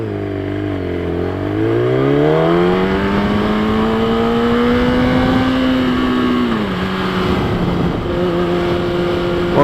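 Kawasaki Ninja ZX10R (2012) accelerating, its engine note climbing smoothly through the revs, dipping briefly at a shift, then holding a strong, even drone, close and loud with no talking.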